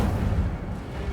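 Incendio fire spell cast in the Hogwarts Legacy video game, heard as a loud, dense rumbling burst with a heavy low boom that fills the whole moment, no voices.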